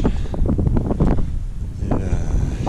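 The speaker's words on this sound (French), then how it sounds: "comme il y a du vent, ça rafraîchit" Wind blows hard across a mountain trail, a loud, rough, continuous rumble buffeting the microphone, with no voices.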